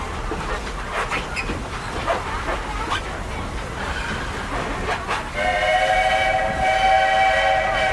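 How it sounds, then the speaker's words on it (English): Walt Disney World Railroad steam train: clanking and rhythmic chuffing under a loud steam whistle that sounds clearly in the second half, with faint voices in the background. "this steam train is a little old-fashioned"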